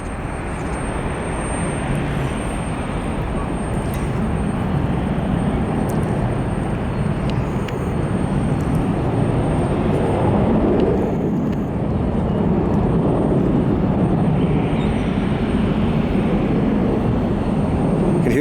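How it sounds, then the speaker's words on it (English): A jet airplane taking off at an airport, its sound echoing off nearby buildings: a continuous, loud, broad roar that holds steady throughout with no talking. "Hear the jet sounds echoing off the buildings here"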